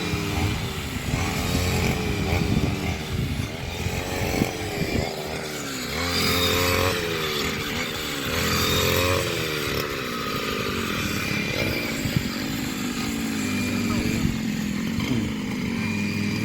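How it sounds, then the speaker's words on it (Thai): A petrol brush cutter harvests rice stalks in a paddy field, its two-stroke engine whining loud and close with rising and falling revs as it slices through the crop. "เอาเครื่องตัดหญ้ามาเกี่ยวเขาตัดเขา"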